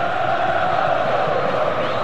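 Fluminense supporters answer with a broad chant across the Maracanã stadium at a 2002 Brazilian league match against Corinthians, a continuous, distant wash of massed voices at steady volume.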